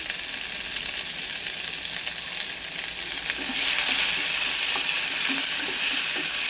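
Onions sauté in a pan for dhal with a continuous crackling sizzle. It grows louder and brighter about halfway through, and scattered pops and stirring scrapes sit on top of the hiss.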